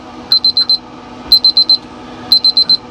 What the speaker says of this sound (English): Now, why this thing is beeping,